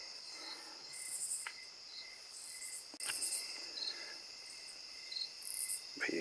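Katydids sing by a river, buzzy insect calls pulsing in bursts from several directions, some near and some farther off, over quiet outdoor ambience with a few faint handling knocks.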